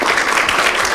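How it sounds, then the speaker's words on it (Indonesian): Audience at a school drama festival applauding the performers, a brief dense wash of many hands clapping, loud and continuous. "Saya pikir nggak ada salahnya sekali lagi kita tepuk tangan untuk semua"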